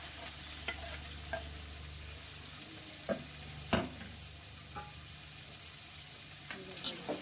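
Onion and green chilli fry in oil with mustard seeds, cumin and garlic, making a soft, quiet sizzle with scattered clicks and scrapes of a spoon stirring the pan.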